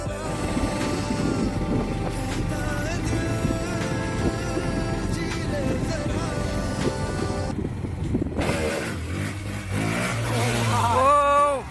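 Several motorcycles rumble and rev steadily in a group as riders set off onto the road for a Sunday ride, engine noise filling the clip and rising near the end, with voices partly mixed in.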